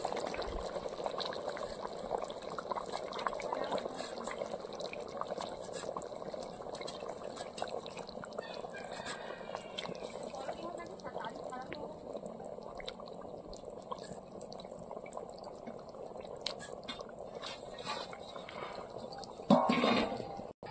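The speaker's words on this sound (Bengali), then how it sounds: "তরকারিটা ফুটে উঠেছে" A Bengali fish curry with mete alu (yam) and katla fish simmering in a pot, giving a faint, steady bubbling and gurgling hiss that continues throughout with a slight rise near the end.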